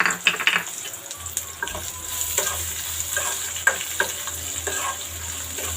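Onion pieces frying in oil with tempering spices and curry leaves for carrot curry: close spatula scrapes and taps over a steady crackling sizzle, louder bursts early on, no talking.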